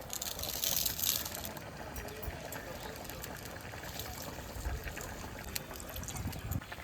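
Water is poured over fried paneer with a little sugar in a home kitchen, a faint, steady trickle and splash that continues softly throughout.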